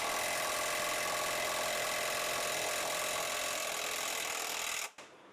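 A 1/2-inch impact wrench buzzes continuously with a rapid rattling hammer on a bolt for about five seconds, then cuts off abruptly into quiet.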